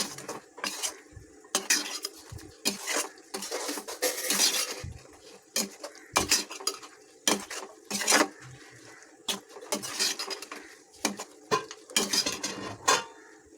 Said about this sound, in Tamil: தக்காளி விழுதை சேர்த்து நல்லா கிளறி விடலாம்.